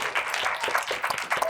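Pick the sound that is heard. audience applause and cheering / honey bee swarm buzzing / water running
audience applause and cheering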